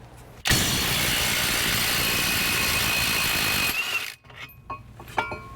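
Two 18mm brake caliper bracket bolts come off a Ford Fusion front brake with a loud, steady power-tool whir lasting about three seconds, then a few lighter metallic clinks and rattles of parts being handled.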